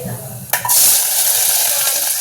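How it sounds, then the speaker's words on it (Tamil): Mustard seeds hit hot oil in a pan and burst into a loud, close sizzle, then settle into a steady, bright spluttering hiss. "கடுகு பொறிஞ்சிட்டு இருக்குது"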